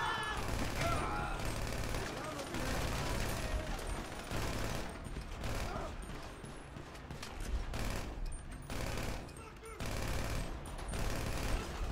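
Dense, rapid gunfire from a shootout in GTA V rattles almost nonstop, with bursts and single shots overlapping throughout and faint voices now and then beneath the clatter.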